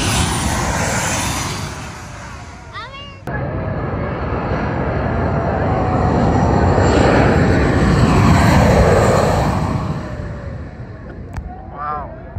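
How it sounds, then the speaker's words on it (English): Planes landing low over Maho Beach produce a loud, continuous engine roar that swells to a peak and then fades, with a sharp break partway through. "The small planes landing are nice, but it's the big ones that really put on a show."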